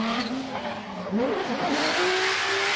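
A Formula Drift car in qualifying at New Jersey comes back on the throttle with a loud, sustained engine drone and tire squeal, the pitch wavering mid-run before climbing steadily, heard up close throughout.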